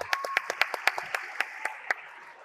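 An audience applauding at a Latvian leadership programme graduate event, a sparse run of about a dozen distinct claps in an even rhythm, close and moderately loud, thinning out toward the end with no talking.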